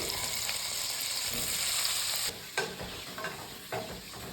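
Paneer frying in ghee in a kadai gives a steady close sizzle. After a couple of seconds it softens, broken by several sharp clinks and scrapes of a spoon stirring.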